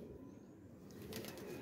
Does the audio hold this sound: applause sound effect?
no